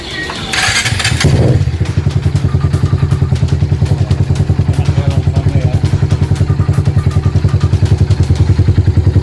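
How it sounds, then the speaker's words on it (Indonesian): Close, loud motorcycle engine fitted with a MaxWire CDI-to-coil cable fires up with a brief clatter, then settles into a steady, even idle with a rhythmic exhaust thump. "Buat suara idle-nya lebih enak. Suara knalpot juga lebih adem."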